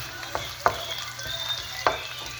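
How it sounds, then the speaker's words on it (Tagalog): Ginger stir-fries in a hot pan with garlic for ginataang tilapia, giving a steady low sizzle broken by a few scraping spatula strokes, close by and with no voices. "Sabay na po natin yung ating luya. Imikos-mikos lang po natin para lumabas yung kanyang aroma."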